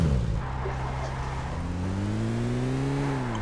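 A car in a video game with enemies and fuel drives along, its engine humming steadily and loudly, then rising in pitch and dropping back.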